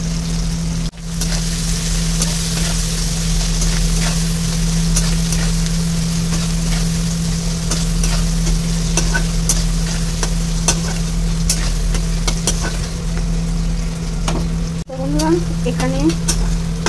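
Onions sizzle in hot oil in a pan, producing a constant loud frying hiss with a low hum beneath, occasional stirring scrapes, and a voice briefly speaking.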